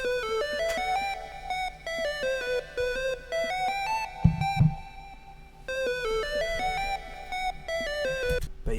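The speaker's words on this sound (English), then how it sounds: "I got another counter melody, and it has kind of like a little buzzy like feel to it" A buzzy synth counter melody with low frequencies cut by EQ, in a dreamy opium-style trap beat, with bright stepping arpeggiated notes cycling steadily, a brief low thump midway, and no voices.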